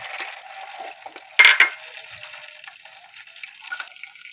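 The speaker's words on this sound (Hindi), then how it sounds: "हांडी में हमने ऑयल डाल लिया है, अब हम इसमें वाइट वाला ज़ीरा डाल रहे हैं।" White cumin seeds sizzle in hot oil in a handi pot, a soft, steady crackle with a sharper burst of spitting as they land, then settling into a gentle fizz close by.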